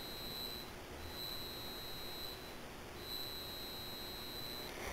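A faint high-pitched electronic beeping tone from a homemade Velleman K7102RS metal detector pinpointer buzzer sounds in long pulses with short gaps, over a quiet hiss of background noise.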